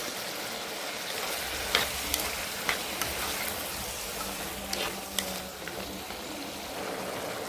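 Beef curry ingredients with koorka and coconut bits sautéing in a pan, a steady soft sizzle with a few light clinks and taps throughout, and no voices.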